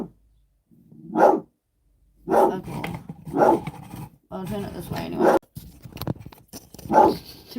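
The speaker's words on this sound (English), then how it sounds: "Dogs, cut it out." Dogs bark and growl at home in several loud bursts, close by, mixed with a person talking between and over them.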